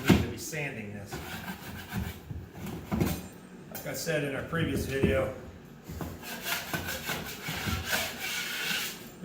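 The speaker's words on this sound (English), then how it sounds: "You're just scraping it." A metal knife scrapes dried drywall joint compound off a wall patch around an opening cut for a flat screen TV, in repeated rasping strokes close to the microphone, while someone talks over it.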